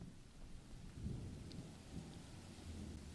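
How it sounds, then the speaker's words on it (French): Thunder rumbles low and steady under the patter of rain in the off-road driving game MudRunner, a continuous storm bed with no voices. "On entend encore un peu le tonnerre."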